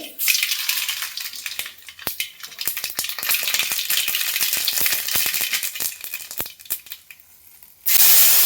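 Mustard seeds splutter and pop in hot oil in a pickle pan, a dense, continuous crackling sizzle with many sharp individual pops, then a sudden louder hiss near the end as something new hits the pan.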